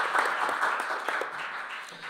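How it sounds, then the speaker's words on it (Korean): An audience at a panel discussion forum gives the presenters a round of applause, heard as steady, dense clapping from a seated crowd that holds throughout and eases slightly toward the end. "한꺼번에 몰아서 박수 한번 치고요."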